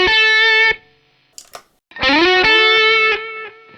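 Electric guitar through a ZOOM MS-80IR+ amp simulator with delay on: distorted sustained chords ringing loud, a short muted gap with a few scratchy string noises, then a bending distorted chord that decays with a delayed tail.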